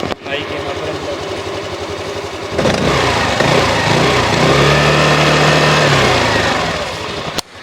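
A small Hero Xoom 125 scooter engine idles, then revs hard with the throttle opened, a loud buzzing roar that holds steady before dropping off.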